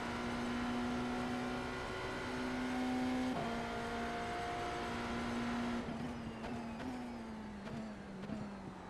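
Race car engine in iRacing during an IMSA series race, a steady sustained drone with shifting pitch and a gear change partway through, loud and continuous with no talking.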